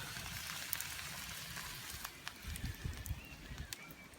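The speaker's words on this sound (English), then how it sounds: "Can you hear it sizzling?" Soft, steady sizzling hiss of salmon cooking over an open campfire, with faint crackles and quiet background noise, no talking.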